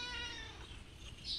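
A cat gives a single drawn-out, slightly whiny meow, close and fairly quiet, with no one speaking.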